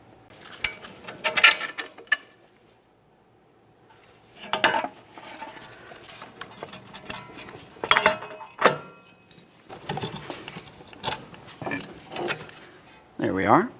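A rear CV axle being pried and slid out of a Jeep Grand Cherokee, with scattered metallic clanks, scrapes and knocks in uneven bursts, some close and loud, between stretches of someone talking.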